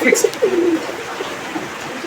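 Big Gopalganj pigeons give a few low, soft coos near the start, close by amid a slightly noisy background, followed by quieter ambient sound.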